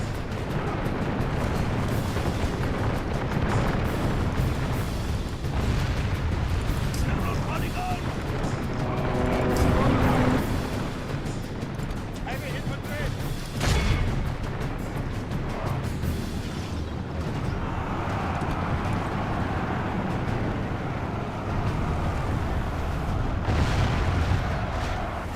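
Battle din from a gate assault in Medieval 2: Total War, a steady wash of missile fire, impacts and rumbling booms with a few louder hits, all under continuous talk.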